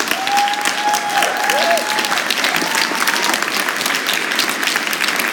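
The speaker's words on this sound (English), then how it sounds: "Have a round of applause for all the candidates." Audience applause for candidates at a Democratic rally in Cornwall, Connecticut: sustained, even clapping from a crowd throughout, with a faint whistle-like tone early on.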